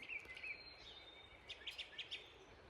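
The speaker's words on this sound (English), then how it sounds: "and the robins are singing." Robins singing in spring on a farm with sheep pasture, their chirps and warbling phrases coming faint and from a distance over a soft outdoor hush, with a quick run of repeated notes toward the end.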